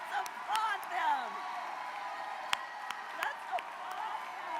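A large crowd at a Philadelphia campaign rally applauds young leaders and first-time voters, with distant clapping mixed with cheers, whoops and scattered shouts that rise and settle over a few seconds.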